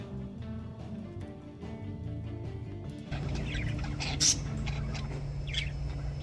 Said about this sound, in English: This video is a pair of budgies.